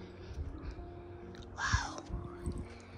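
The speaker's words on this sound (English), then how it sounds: "it's a big raven" A large raven by a Norwegian fjord in winter gives a single loud, hoarse caw, clear against quiet outdoor background.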